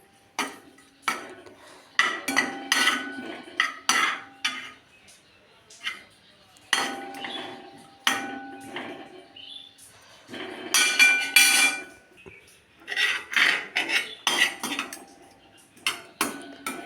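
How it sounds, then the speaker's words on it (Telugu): Dry ginger pieces are roasted in ghee in a pan, with repeated metallic scrapes and clinks of a spoon stirring against the pan in irregular bursts and pauses, close by. "చొంటి దగ్గరుండి వేపాలండి ఒక నీట్గా దగ్గరుండి దగ్గరుండి వేపాలండి"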